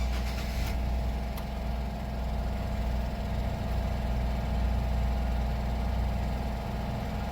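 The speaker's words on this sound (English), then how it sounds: "I'm going to shut up so you can hear the engine." A 2008 Nissan Sentra with about 144,631 miles idles steadily just after start-up, giving an even, low mechanical hum with faint vibration and no talking.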